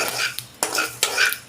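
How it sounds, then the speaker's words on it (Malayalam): Mustard seeds dry-roasting without oil in a kadai for Kerala-style small onion pickle, with sharp metallic stirring scrapes and clatters against the pan in a few quick strokes. "ഇപ്പം കടുക് വെടിക്കാൻ തുടങ്ങി"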